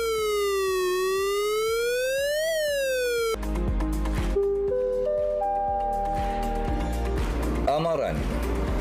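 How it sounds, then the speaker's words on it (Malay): A loud, continuous wailing flood warning siren rising and falling in pitch, then shifting into a steadier multi-tone blare with background noise. "Pertama, bunyi siren amaran."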